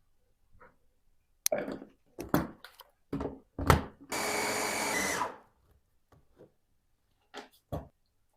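Scattered knocks and clinks, then a blender whirs loudly for just over a second, grinding nuts with honey, before more light clatter.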